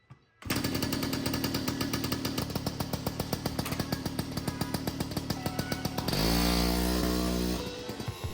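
A modified 70cc Honda Express NC50 moped engine revving hard while riding, a loud, buzzing two-stroke drone with rapid pulsing, steady then dropping to a lower idle-like tone near the end.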